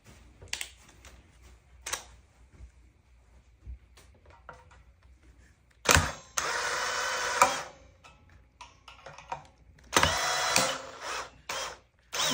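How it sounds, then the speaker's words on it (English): A drill backs heavy-duty screws out of a 1984 B.C. Rich Warlock guitar during a rebuild. Two sustained whirring bursts, each a second or more, are separated by quieter clicks and handling noise, and no one speaks. "Use the drill to bring these out."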